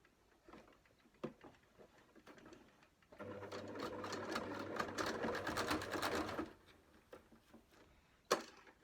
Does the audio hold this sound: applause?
no